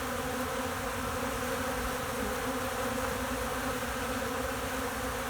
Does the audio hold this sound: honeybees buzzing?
yes